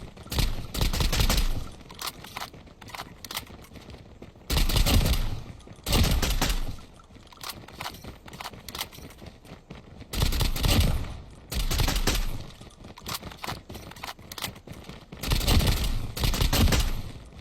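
A JAK-12 shotgun with an epic skin fires in a video game. Roughly five separate bursts of rapid, booming shots are each followed by a brief pause, loud and up close with no voices.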